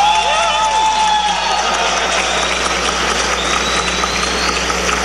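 Dense, steady applause from a large standing audience at a graduation ceremony for National Conservatory of Music students, loud and continuous throughout with a low hum and faint whistle-like tones in the background.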